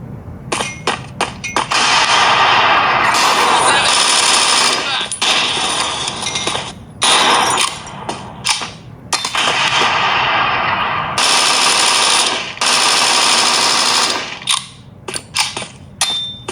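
Dense, loud gunfire from the mobile shooter game Bullet Force played on a Realme X7 Pro smartphone rattles in long rapid bursts, broken by brief gaps and a few single shots.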